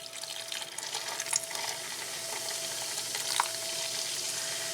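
Liquid from a 20 fluid ounce bottle of zero-calorie drink poured into an Instant Pot holding a pork Boston butt, a steady splashing, gurgling pour running the whole time, close and moderately loud, with no talking.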